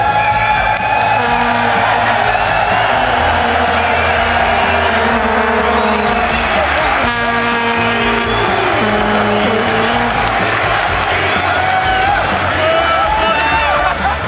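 An arena crowd at a League of Legends LCS event in London roars and cheers, with sustained whoops and shouting forming a loud, continuous wall of noise, with voices talking over it.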